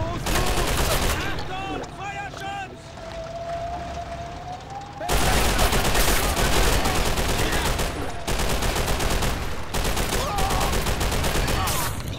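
Dense, loud WW2 battle gunfire from the Stalingrad video game, with rapid overlapping rifle and machine-gun bursts rattling continuously and a wavering siren-like tone early on, growing more intense partway through.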